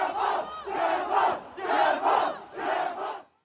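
A street protest crowd in Urumqi chants in unison, four loud rhythmic bursts of massed voices repeating a slogan, with brief dips between phrases before the chanting cuts off.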